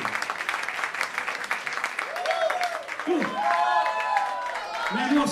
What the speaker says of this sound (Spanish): ¡Aplausos para Bosque!